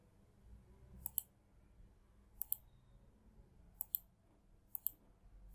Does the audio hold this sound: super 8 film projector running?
no